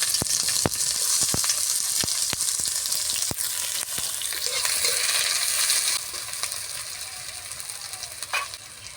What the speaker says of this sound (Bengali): এবার দিয়ে দেবো পেঁয়াজ কুচি, লঙ্কা কুচি।